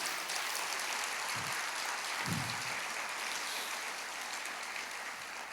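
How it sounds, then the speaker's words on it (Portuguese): Congregation at a church sermon gives a round of applause, a faint, diffuse and steady clapping heard at a distance with a couple of low thumps. "Você pode dar uma salva de palmas para Jesus?"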